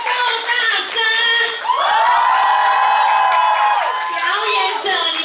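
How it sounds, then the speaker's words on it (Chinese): At a bodykey party event, the audience bursts into loud screaming and cheering for the performers: scattered shouts build into a long, piercing, unified crowd scream that rises, holds for a few seconds, then breaks into whoops. "我们再给我们所有的表演者再一个最棒的尖叫声给他们，好不好？"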